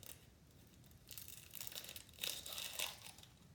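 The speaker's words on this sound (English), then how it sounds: "So we'll just peel this, get the sticker off of it." An onion being peeled by hand in a kitchen, its papery skin and sticker pulled away in soft crinkling, tearing rustles that swell in the second half, close and fairly quiet.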